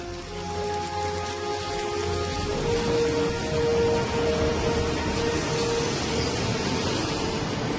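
Tropical downpour at Prachuap Khiri Khan train station in Thailand, a dense steady hiss of heavy rain drumming on surfaces, with a faint tonal hum running through the background.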